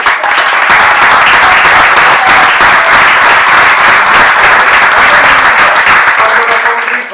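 Loud, continuous applause from an audience at a Peronist philosophy lecture, thick and steady clapping that holds strong from start to finish.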